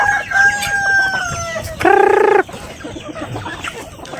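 Pet chickens in a backyard flock, with a loud rooster crow in the middle standing out over steady clucking and faint background calls.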